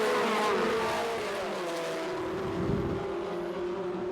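Engines roar steadily as historic Formula Ford racing cars pass the start-finish line at Winton, a sustained loud drone that swells slightly midway, with no voices.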